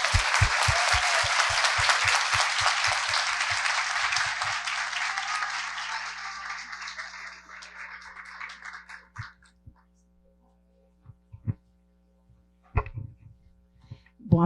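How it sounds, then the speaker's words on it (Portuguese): An audience applauds a Libras sign language interpreter at a talk event, dense clapping that fades out over several seconds, leaving a few scattered taps and thumps near the end. "eu só queria que todo mundo desse uma salva de palmas para o intérprete de Libras"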